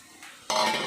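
Leftover roti is dropped and stirred into a hot sesame-seed spice tempering in a pan, a brief quiet scrape followed by a sudden louder clatter and sizzle.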